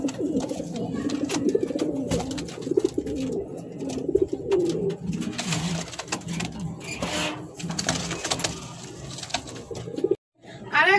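A pair of red Lahori running pigeons coo in soft, repeated low murmurs close by, with faint rustling and background noise that cuts out briefly near the end.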